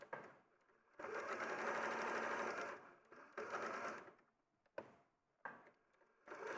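Domestic sewing machine stitching a quilt corner, several loud close bursts of rapid motor-driven needle chatter separated by short pauses where the fabric is pivoted.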